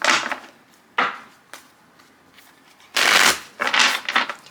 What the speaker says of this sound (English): Oops, oh my God, that was a terrible shuffle.